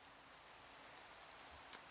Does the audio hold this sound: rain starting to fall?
yes